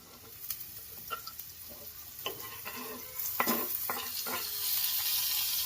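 Curry leaves and green garlic frying in a pan for Kathiyawadi urad dal, with soft scraping stirs and light sizzling that thickens into a steady hiss toward the end.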